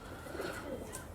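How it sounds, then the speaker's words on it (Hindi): Indian Amritsari pigeons cooing softly and continuously at close range, a low murmuring coo over steady background noise, with no talking. "मेहदी भाई ये इंडियन कबूतर है, ठीक है।"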